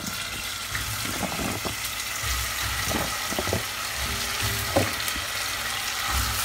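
Potatoes fry in a pan for a fish dolma, giving a continuous soft sizzle with scattered clinks and scrapes of stirring, close and moderately quiet.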